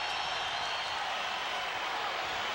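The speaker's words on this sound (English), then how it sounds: "Crowd into it now." Sacramento Kings fans fill a basketball arena with steady, broad cheering during a home run against the Indiana Pacers, a continuous moderate roar with no clear breaks.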